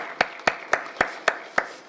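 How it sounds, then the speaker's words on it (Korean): Six sharp, evenly spaced claps ring out in a church service as the congregation applauds together, crisp and fairly close with no talk over them. "하나님께 모든 감사와 영광의 박수를 올려드리겠습니다"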